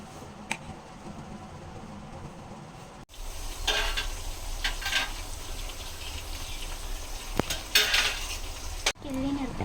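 Onions sauté in oil with spices for a home-cooked biriyani, with a steady close sizzle in the pan. A spoon scrapes and clatters against the pot while stirring, with a sharp knock now and then.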